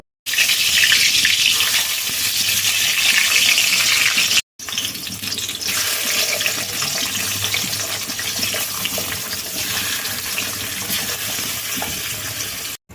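Liquid drawn out of ash gourd by salt and turmeric is poured off, a loud continuous gushing stream close by, briefly interrupted midway before flowing on.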